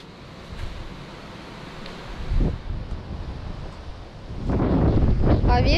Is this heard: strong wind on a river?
yes